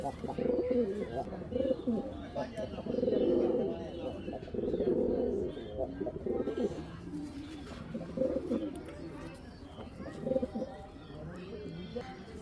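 Pigeons in a Bangladeshi bird sale collection coo repeatedly in low, throaty bursts close by, while someone talks over them throughout.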